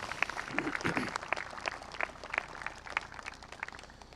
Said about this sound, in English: A round of applause for their service.